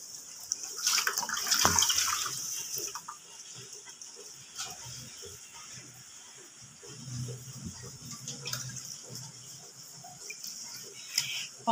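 Water splashes and swirls as poppy seeds are rinsed in a bowl, with intermittent sloshing and gentle trickling at close range.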